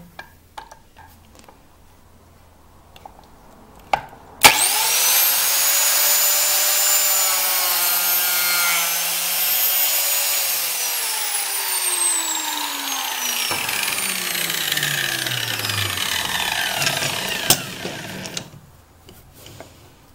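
An Einhell TC-BJ 900 biscuit joiner cuts into wood: the motor spins up abruptly into a steady, loud high whine with cutting noise, then winds down with a falling pitch before quiet returns.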